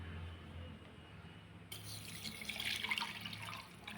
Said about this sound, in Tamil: தண்ணி ஊற்றி